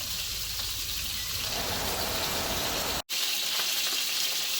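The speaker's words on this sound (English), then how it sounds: "turn my vent back on so that it can keep cooking here in this high heat with all that beautiful bacon grease" Steak and bacon cook in an air fryer at high heat, giving off a steady loud hissing sizzle of spitting bacon grease. Near the end it cuts out for an instant, then resumes a little duller.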